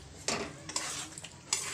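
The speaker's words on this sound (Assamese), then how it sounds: "আৰু ইয়াতে দি দিম মই মূলা। এইটো ভালদৰে মই ভাজি ল'ম।" Radish frying with spices in a pan, with a few sharp spatula scrapes and clinks against the metal over a faint sizzle, brief and close.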